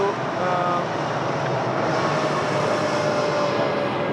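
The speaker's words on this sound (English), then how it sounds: "Now we have Airbus A321neo long range to" Airbus A321neo long range airliner at Lisbon Airport, a steady loud engine roar with a faint rising whine, sustained throughout and unaccompanied by speech.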